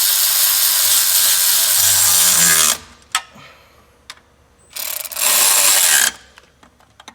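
A ratchet tightens intercooler piping in two long bursts of rapid, close clicking, separated by quiet gaps with a few isolated clicks and knocks.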